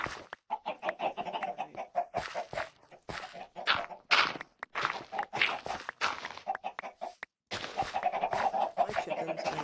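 Chickens in the video game Minecraft cluck in short, irregular bursts, several birds overlapping at close range with brief pauses between calls.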